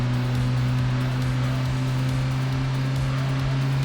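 Toyota Yaris engine in the Gran Turismo 2 video game, a steady, loud, droning engine hum at constant revs throughout, with no speech.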